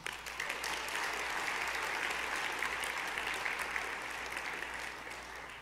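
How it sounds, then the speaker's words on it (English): Audience applause at a NACIS cartography awards banquet: a large crowd clapping steadily and evenly throughout, easing off slightly at the very end, with no talk over it. "I would also like you all to give a round of applause for student board member Latoya Gray Sparks and director-at-large Sarah Bell"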